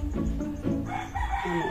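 A rooster crows loudly and close by in one short burst, with a brief cluck-like tail and no voices.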